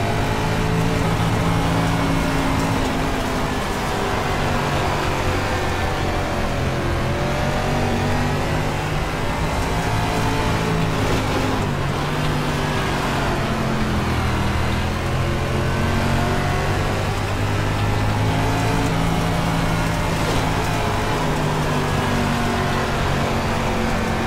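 Late model race car engine in the iRacing sim at Volusia, a loud continuous droning roar with rising and falling pitch as the throttle is held and feathered through the turns.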